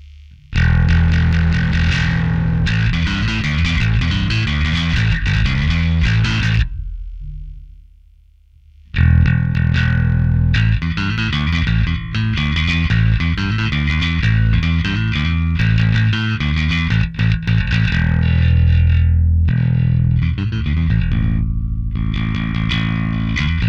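An electric guitar plays through a SansAmp-style effects unit with the blend fully up, producing a thick, heavily distorted, somewhat muddy tone with loud, dense riffing and one brief gap partway through.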